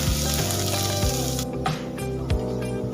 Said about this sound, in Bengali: হাই ফ্লেমে পেঁয়াজগুলো হালকা লাল করে ভেজে নেব।